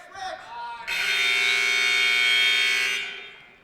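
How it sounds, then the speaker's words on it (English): A loud, steady electronic buzzer at a high school varsity wrestling match between Loyola Blakefield and Calvert Hall, marking the end of a period; it blares for about two seconds after brief gym noise and then cuts off. "Even though the buzzer sounded, there are 2 seconds left in this period."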